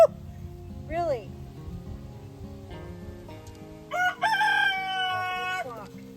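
A rooster crows loudly and close among a flock of chickens, with scattered clucks and a second crow near the end, while a person talks over the birds.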